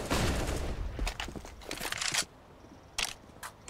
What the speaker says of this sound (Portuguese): Os caras tá atirando mesmo